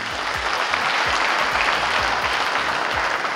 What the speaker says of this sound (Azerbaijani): məncə onlara alqış düşür